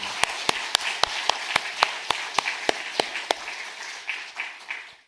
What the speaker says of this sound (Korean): 하나님 감사합니다 하고 박수 치겠습니다